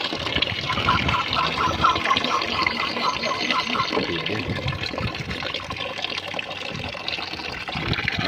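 A DC pump pushes water through a pipe in a steady, close rush of trickling and splashing flow, continuous throughout, with a person talking over it.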